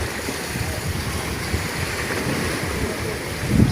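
Sea waves at night under a big moon, a continuous broadband wash of surf with low rumble and wind noise on the microphone, steady throughout with a slight swell at the end.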